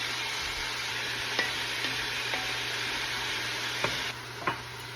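Celery and fennel sizzle steadily in olive oil in a pan for a Bolognese, a close continuous frying hiss with a few faint stirring clicks; the sizzle drops slightly near the end.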